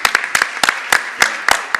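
Applause at a county commissioner meeting: a small group clapping in a loose, uneven rhythm, distinct close claps repeating for under two seconds.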